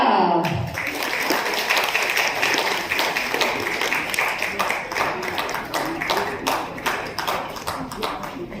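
An audience at a World Para Athletics Championship ceremony in India breaks into sustained applause welcoming Team India, dense steady clapping filling the hall for several seconds, with a voice faintly over it.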